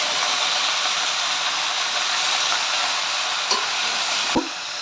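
Mango pieces frying with five-spice and dried chilli in a wok for a sour, spicy and sweet mango pickle give a steady, close sizzling hiss, broken by a couple of sharp spatula knocks against the pan near the end.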